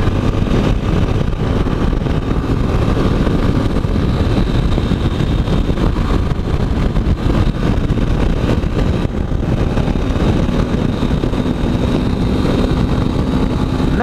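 Yamaha Ténéré motorcycle engine drones at high road speed under heavy, constant wind rush, loud and close for the whole stretch.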